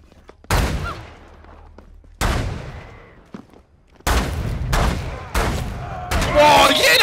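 Gunfire in the multiplayer survival game The Culling: several loud bursts of shots ring out in clusters separated by short gaps, some trailing into echoing decay, while a player reacts in the background.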